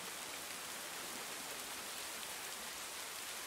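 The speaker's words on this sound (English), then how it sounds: "The rain is light at first, almost playful, tapping on the rocks and leaves" Light rain falls on rocks and leaves by coastal rock pools, a soft, even hiss that stays faint and steady throughout, with no voices.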